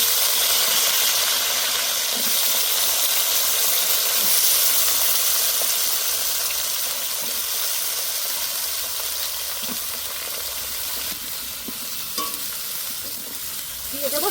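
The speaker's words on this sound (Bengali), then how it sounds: "আলু ভাজার তেলে আমি বেগুনগুলো ভেজে নেব।" Eggplant pieces fry in oil left over from frying potatoes, a loud, steady hiss and sizzle that holds throughout, with a few soft scrapes of stirring near the end.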